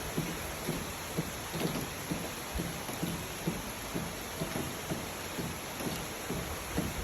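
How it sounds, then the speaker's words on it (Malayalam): Light, steady rain pattering on a surface, with soft regular drips and a faint hiss throughout; no voices. "മഴ ചെറിയതായിട്ടേ ഉള്ളൂ ഗൈസ്. ചെറിയ മഴ."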